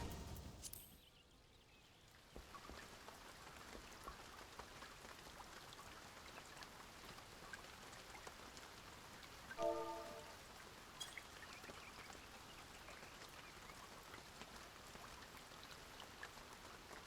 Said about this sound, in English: we're gonna listen to some calming rain sounds now